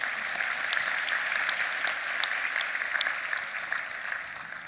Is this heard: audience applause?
yes